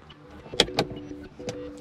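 A roof-mounted sunglasses compartment in a Ford C-MAX II opens with a few sharp plastic clicks and a soft latch release, close up and quiet inside the car.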